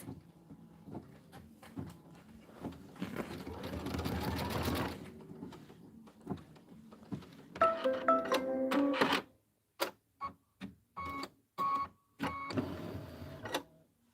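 A home embroidery machine stitches a picture placement line, rapid mechanical clatter in bursts separated by pauses and short stop-start runs of stitching, close and fairly loud, with faint talk near the start.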